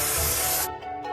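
Spray paint hissing in a steady loud burst onto the seam of a toy model, cutting off abruptly partway and leaving a softer rubbing residue.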